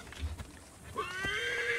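A horse whinnies in the Assassin's Creed Origins video game, a rising then wavering neigh after brief soft hoof-like thumps, fairly close and clear with no talk over it.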